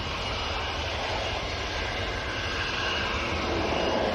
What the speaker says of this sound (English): Lufthansa's A321 is next to go, already lined up